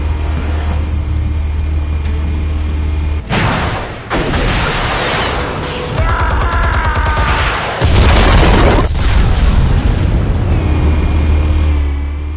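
Explosives detonating in Batman: The Telltale Series, with a long, loud rumbling blast that starts abruptly, surges again midway and rolls on with debris and a low roar to the end, no voices.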